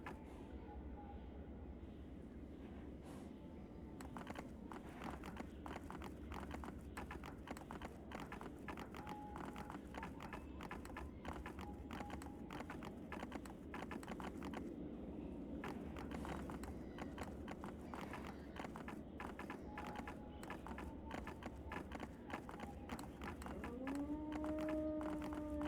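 Horse hooves clip-clop steadily at close range in a video game, a continuous rhythmic trot with ambient background sound and no talking.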